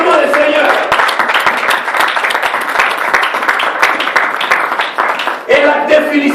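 A church congregation claps and applauds the Lord together, a dense, sustained round of loud clapping that continues throughout, with a brief dip near the end before it swells again.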